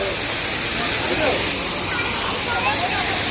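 Water spraying near a flower-decorated building garden during a Christmas morning outing, a steady broad hiss filling the whole stretch, loud and close, with faint voices underneath.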